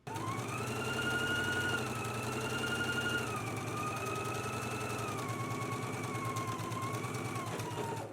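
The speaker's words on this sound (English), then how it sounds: "let's go ahead and stitch using a 5/8 inch seam allowance" A sewing machine stitches a 5/8-inch seam on a dress, running in one continuous motorised whir with a rapid needle rhythm and a slightly wavering pitch, then stopping at the very end.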